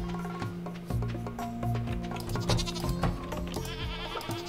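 A goat in Stardew Valley bleats clearly over cheerful background music, with several wavering calls rising above the melody.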